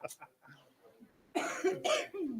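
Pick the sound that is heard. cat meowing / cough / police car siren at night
cough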